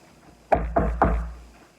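Three firm knocks on a door, evenly spaced and close, each a sharp thud with a short decay, set against a quiet room in a read-aloud children's story.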